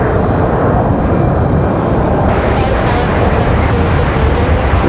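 A Boeing 717 airliner roars loudly and steadily while taking off at Raleigh-Durham airport, a broad continuous engine rumble that fills the whole clip with no break.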